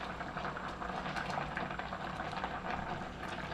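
Rice boiling in a pot for veg biryani, a continuous bubbling, churning simmer, steady and close with no talk.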